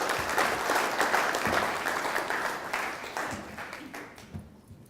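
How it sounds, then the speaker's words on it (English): Warm applause from an awards-ceremony audience fills the room, dense and sustained before tapering off toward the end, with no speech over it. "Big round of applause."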